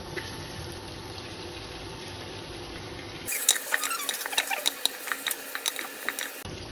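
Pre-fried chicken pieces go into a cooking pot and are stirred, giving irregular scraping and clattering knocks over a low background hum that gets busier partway through; close and moderately loud, with no talk.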